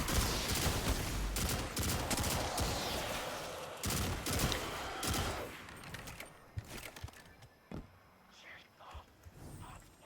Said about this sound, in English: I think there was something shooting behind me